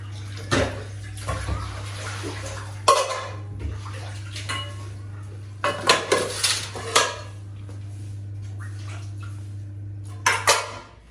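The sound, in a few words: dishes and pots being put down while cleaning kitchen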